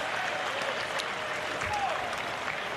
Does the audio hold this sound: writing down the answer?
no